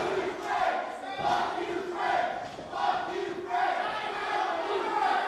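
Crowd at a pro wrestling show cheering and chanting in rhythmic surges, loud massed voices rising and falling in repeated waves across the arena.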